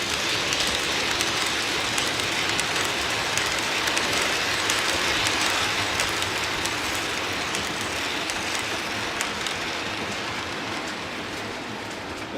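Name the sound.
model trains running on track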